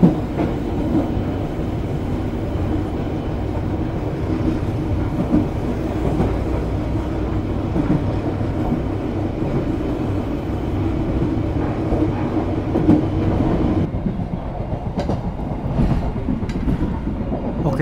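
A passenger train in Indonesia rumbles steadily along the rails for a long stretch passing through Papar station, loud and close, with faint rhythmic clacking and no talking.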